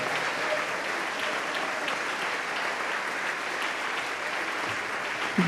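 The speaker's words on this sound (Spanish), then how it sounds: "Denle ese aplauso al Rey en esta preciosa y hermosa mañana." A church congregation applauds during a Sunday morning sermon, a long, even wash of many hands clapping at moderate distance, steady throughout with no voices on top.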